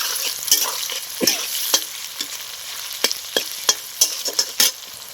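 Chopped onion and tomato fry in a pan with a soft, constant sizzle, punctuated by a series of sharp scraping clicks as a utensil stirs them.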